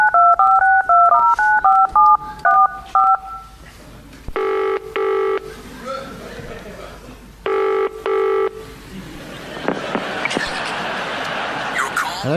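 Rapid touch-tone dialing beeps come first, then two bursts of British-style double ringing from a telephone, followed by crowd noise and laughter at a live comedy recording.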